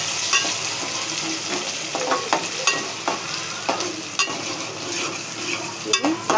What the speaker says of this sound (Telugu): ఉల్లిపాయ, పచ్చిమిర్చి, కరివేపాకు ఇందులో వేసుకోవాలి. ఇది కొంచెం గోల్డ్ కలరు వేగాలి.